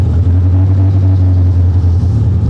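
A gutted vintage sports car, left sitting for years, runs with a steady, loud low engine drone as it creeps forward, the rumble holding even with a faint rattle over it.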